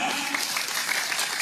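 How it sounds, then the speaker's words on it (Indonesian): An audience claps at a religious lecture: a short, dense burst of applause that stays steady throughout, with faint crowd murmur mixed in. "Tepuk tangan."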